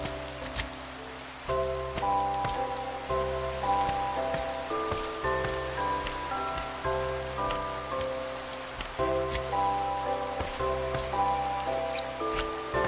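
Steady rain patters on a surface for the whole stretch, with a dense, continuous hiss of drops, while a sustained musical tone layer plays underneath.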